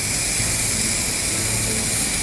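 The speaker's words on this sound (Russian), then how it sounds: "Для того, чтобы вы почувствовали, как у вас будет краска распыляться" Spray paint hissing steadily onto a guitar being refinished with brown paint, a continuous close, loud airy spray with no pauses and no voices.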